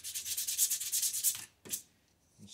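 Sandpaper rubs rapidly back and forth over a wooden tappet holder rod to remove stray wood strings left from bandsaw cutting, a close rhythmic scratchy hiss that stops, followed by one brief scrape.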